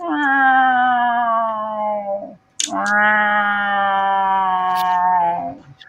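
A person imitating a cat, producing two long, drawn-out meowing wails separated by a brief gap and a short click, close and loud with no other talk.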